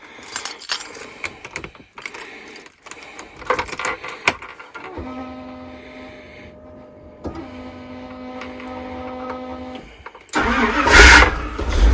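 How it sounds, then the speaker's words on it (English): A cold engine on a vintage Winnebago motorhome cranks in a couple of bursts with rattles and clicks between them. It then catches and roars up loudly near the end, with no talk over it. "She's gonna be cold, so might take a couple starts, a couple cranks."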